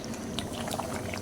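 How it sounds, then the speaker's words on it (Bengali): Water pours into beef being braised in a pot, a short, close, bubbling gush with liquid splashing over the sizzling meat. "কষানো হয়ে গেলে তারপরে আপনারা পানি দিয়ে, পর্যাপ্ত পরিমাণে পানি"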